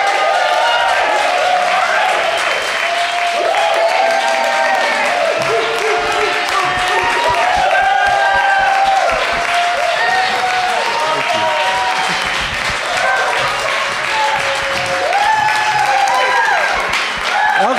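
Steady audience applause greeting Bernard VonNotHaus of Liberty Dollar at a conference event, sustained clapping with some crowd voices and talk running through it.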